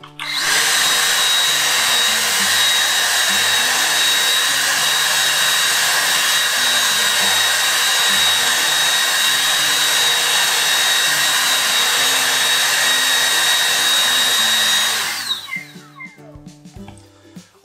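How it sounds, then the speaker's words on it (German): A Rowenta Air Force All in One 460 cordless vacuum cleaner runs in normal mode with its standard attachment. A loud, steady motor whine holds for about fifteen seconds before it winds down and stops. "Und damit sauge ich jetzt hier so einen Teil davon."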